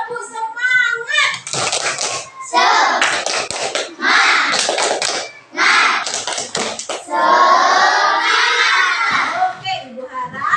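A class of students in a school lesson performs a rhythmic spirit clap, bursts of patterned hand claps alternating with children chanting and shouting together, loud and close throughout.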